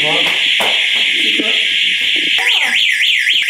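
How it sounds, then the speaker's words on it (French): A loud, piercing electronic alarm blares continuously, rising into a warbling whoop near the end, while people talk and move underneath it. "Il y a l'alarme qui s'est enclenchée d'un coup"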